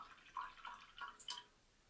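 A paintbrush swished and tapped in a small cup of water, four quick faint liquid clinks and drips in close succession, heard alone in a quiet room.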